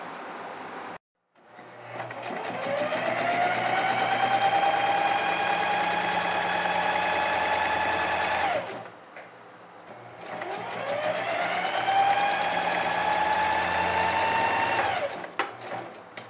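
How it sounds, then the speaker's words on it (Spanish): An overlock serger seams the side of a child's dress in two long continuous runs, each with a rising whir settling into a steady high hum, separated by a short pause; close and loud with no talk. "vamos a realizar la costura de los laterales, realizando un overlock también en el otro lateral"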